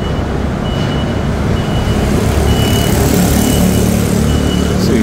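Heavy truck idling and creeping forward on a Midtown Manhattan street near the 59th Street Bridge, engine rumble steady and loud among city traffic noise, with faint intermittent warning beeps sounding over it.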